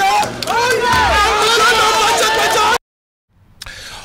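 A large crowd in Benin roars and cheers loudly and continuously with shouting voices as President Bola Tinubu withdraws, then cuts to near silence before faint crowd noise returns.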